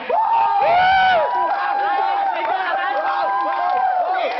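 A lively crowd at a pick-up line contest show whoops, cheers and shouts for a contestant, with excited voices and some clapping overlapping in a dense, close burst.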